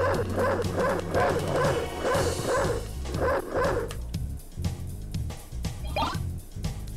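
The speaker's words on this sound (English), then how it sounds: "His bark attack is super fast for some reason." Rapid yipping barks from the wolf form's bark attack in Castlevania: Symphony of the Night on Sega Saturn repeat in a quick run over the opening seconds. Game music and scattered effects follow once the barking stops.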